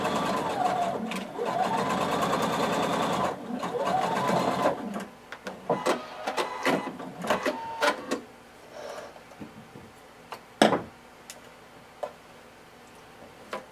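Sewing machine stitching a blazer pocket, including a backstitch: a loud steady mechanical run for about four seconds, then shorter bursts and ticking stops, close up.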